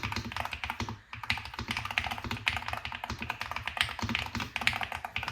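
Steady, close typing on a Nuphy HALO 65 HE keyboard: a rapid run of crisp, evenly spaced keystroke clicks and taps with no talking.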